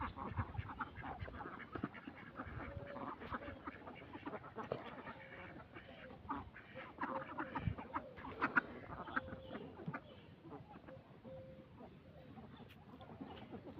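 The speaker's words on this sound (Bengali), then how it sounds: "আসলে এরা খুব লক্ষ্মী হাঁস আমার।" Domestic ducks that lay eggs quack and chatter continuously at close range, with hen-like clucking mixed in, steady and fairly loud throughout.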